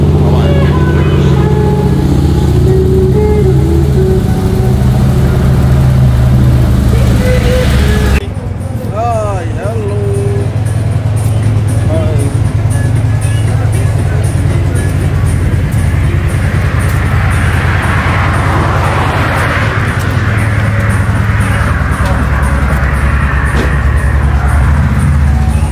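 A Harley-Davidson motorcycle rides a road in Nagaland toward Kohima, its steady engine drone and wind rumble continuous and close throughout, with a brief break early on and shifting road noise as it travels.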